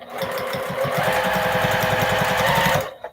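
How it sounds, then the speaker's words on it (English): Sewing machine stitching binding onto a repurposed plate mat, running in a fast, steady mechanical rhythm of needle strokes for nearly three seconds before stopping. "that's where I start to sew"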